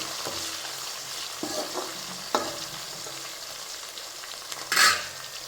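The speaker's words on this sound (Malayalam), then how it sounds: "ഞാനിതിലേക്ക് കറിവേപ്പിലയും കൂടെ അങ്ങ് ചേർത്ത് കൊടുക്കും അതുകൂടെ കിടന്നൊന്ന് ഫ്രൈ ആവണം" Curry leaves, ginger and green chillies fry in oil for a lemon and dates pickle, a continuous close sizzle with a few soft stirring taps and one sharp crackling burst near the end.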